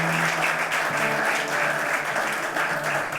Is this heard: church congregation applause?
yes